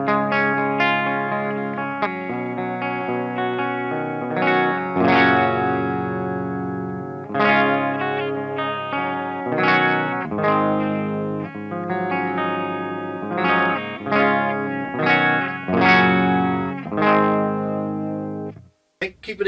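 Guitar played through the clean channel of an Amp 1 Mercury Edition amplifier, ringing chords and single notes in a loose, varied rhythm, close and clear, with no talking.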